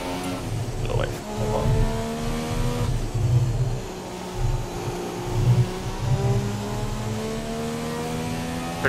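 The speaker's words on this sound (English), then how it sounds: "So how do you know when to upshift? There's no light indicator. Just engine tone." Racing car engine in the F1 2017 video game, a McLaren Honda at the Japan GP, a high revving whine that rises and shifts repeatedly, steady and loud, with people talking over it.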